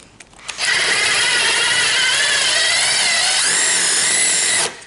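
A power drill with a bit in it runs steadily for about four seconds after a brief start, holding a loud, continuous high whine that rises in pitch near the end before cutting off.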